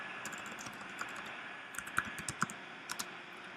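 Someone types an SQL command on a computer keyboard: quiet, irregular keystrokes with a few louder clustered taps over a faint steady hum, and no talking.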